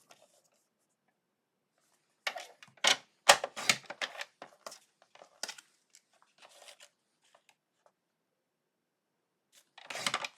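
A paper trimmer slices through cardstock for a handmade 3D box card. Crisp, rapid clicking cuts come in a burst after a quiet start, fade to scattered ticks, then return in a short final burst.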